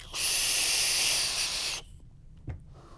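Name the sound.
vaping on Vaporesso SWAG 80W mod, airflow wide open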